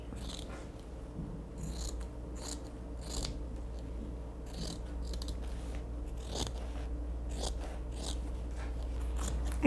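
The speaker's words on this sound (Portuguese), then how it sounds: "Agora, eu vou cortar um pouquinho maior" Scissors snipping through fabric while a dish towel is made, a series of crisp, close cuts spaced irregularly over a low steady hum.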